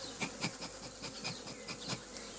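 A steady buzz of honeybees fills the air at an open ten-frame hive during inspection, with a run of soft repeated taps or clicks pulsing through it at close range.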